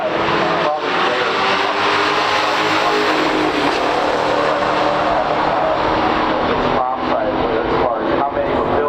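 A 1969 Mustang Super Cobra Jet and a 1971 AMC Hornet SC360 race side by side at a stock drag strip, their engines making a loud, sustained roar with a brief dip near the end.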